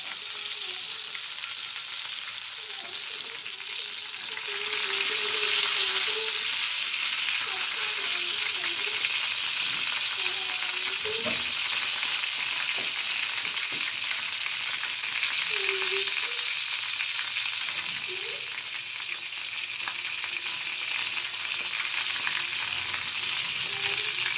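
Beef reshmi kababs frying in ghee on a tawa, giving a loud, continuous hiss and sizzle close up that holds for the whole stretch, with faint occasional utensil touches and no speech.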